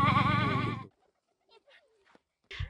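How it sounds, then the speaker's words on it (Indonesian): Sheep bleating at a ranch in Central Java where healthy adult sheep roam freely, one loud, close, wavering bleat followed by a quiet pause with faint scattered sounds and the start of another call. "Domba-domba ini telah memenuhi persyaratan kesehatan dan dewasa."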